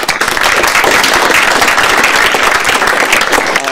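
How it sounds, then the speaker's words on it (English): Dense, loud applause from an audience at the 2014 ModelOFF Financial Modeling World Championship awards ceremony, a continuous wash of clapping hands with no voices over it. "a big round of applause to have Ed here today from A&T Training"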